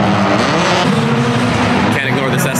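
A Toyota Cresta drift car with a 1JZ engine and a big turbo runs at a Japanese circuit drift event, a loud, steady engine drone heard close by, with a person talking over it.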